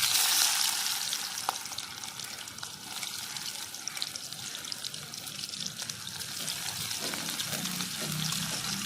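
Chopped onion added to hot oil with cinnamon, cardamom, cloves and bay leaves, a steady sizzling hiss of frying that continues throughout, with faint stirring scrapes and no talk.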